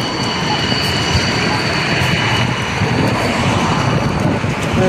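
A number 7 tram in Zagreb rumbles past with a loud, steady roar of wheels and motor close by, a continuous drone without pause.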